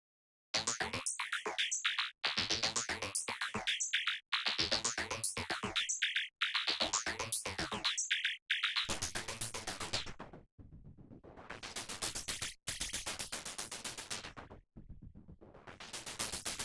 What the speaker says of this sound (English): Let's see what a wave shaper will do.